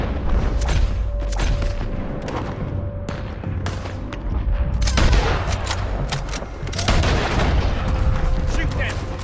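A video game battle with cannon and gunfire, dense rolling booms and rapid bursts of shots that continue without a break, loud and close, with a steady tone running underneath.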